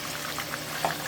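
Shrimp frying in hot oil until golden brown, a dense, continuous sizzle and bubbling with small pops, close and steady throughout.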